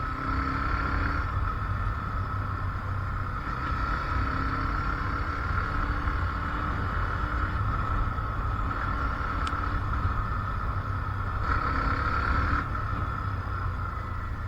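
A Hero Xtreme 125R motorcycle runs at speed in fourth gear over a rough, potholed road, its engine a continuous, loud drone mixed with wind rush that holds steady the whole time, with no voices.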